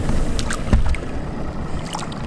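Low rumble of a bass fishing boat's motor idling on a lake in August, steady and close, mixed with wind buffeting the microphone and light water noise.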